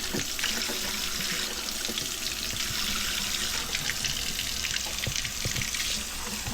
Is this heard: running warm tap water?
yes